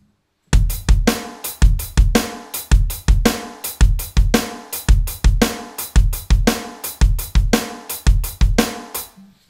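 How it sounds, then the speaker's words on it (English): A drum kit plays a steady groove, with the bass drum landing on beat one, its following offbeat, beat three and its offbeat, under crisp regular hits, loud and close with no talking. "That would sound like this."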